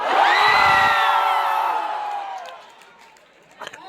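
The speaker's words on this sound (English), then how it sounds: "And the loudest cheer, my favorite, your favorite" At a college club introduction on stage, an audience cheers loudly, a dense burst of whoops and shouts that swells at first, then fades away over a few seconds, followed by scattered claps and noises.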